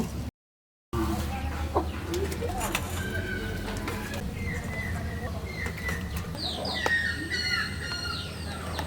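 Country chickens cluck and squawk in short bursts around a village farmyard, with steady low background noise and occasional higher calls toward the end.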